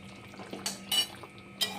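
A spoon scrapes and clinks against a pot while a vegetarian curry of elephant foot yam stalks is stirred, a few short sharp metallic knocks over a quiet background.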